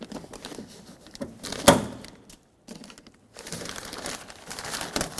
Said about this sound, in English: To continue peeling this vapor barrier off, we're going to have to pop the wire for the tweeter speaker off of here.